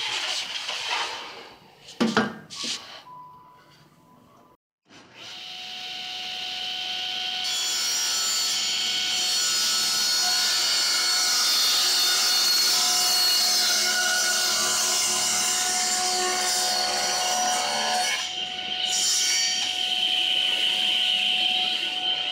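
A saw blade cuts through wood while making a wooden tournament tray, a few rough starting strokes followed by a long, loud, steady cutting whine that stays constant before tapering off.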